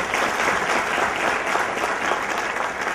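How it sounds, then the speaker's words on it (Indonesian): An audience claps at a success motivation seminar in Surabaya, with dense, even applause that holds steady for a few seconds and has no talking over it. "Tepuk tangan untuk beliau"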